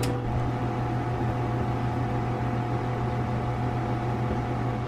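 A Tovala smart oven running just after start is pressed, a steady loud electrical hum with a low drone that holds evenly throughout, near and alone.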